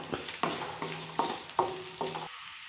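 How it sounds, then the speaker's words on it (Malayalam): Grated coconut stirred in hot oil in a pan until golden, a sizzle broken by about six sharp scraping strokes of the spoon at a steady rhythm, close and fairly soft. "ഒരു ഗോൾഡൻ കളറാകുന്നവരെ നമുക്ക് ഇളക്കി കൊടുക്കാം"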